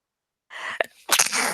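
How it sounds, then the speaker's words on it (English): A quick breathy intake followed by a single forceful sneeze, close and loud in an otherwise quiet room. "For some reason, my sneezes like to come in twos."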